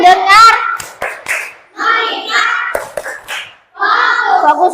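A group in a classroom teacher-coaching session claps in short patterned bursts of quick, sharp hits, alternating with loud speech that dominates between the claps.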